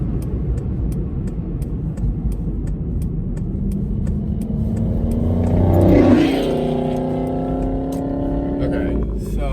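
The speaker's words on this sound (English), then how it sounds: "I'm gonna let this Mustang pass me in a second." A Ford Mustang accelerates and roars past on a road, its engine swelling to a loud peak mid-pass then fading, heard from inside another moving car over steady road rumble.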